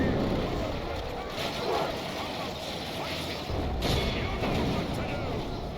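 Artillery and gunfire rumble through a war strategy battle on Ered Luin, a dense, continuous din of booms and distant shots with a loud roar throughout and a voice calling out over it.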